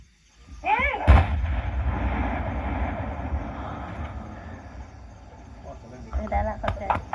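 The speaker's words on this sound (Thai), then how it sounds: "ตื่นเต้นเพราะว่าบ่เคยเห็นระเบิดเป็นจักเทื่อ" Unexploded bombs in Laos are destroyed by controlled detonation, heard as a sharp, heavy blast followed by a long low rumble that slowly fades, with distant voices and crackle near the end.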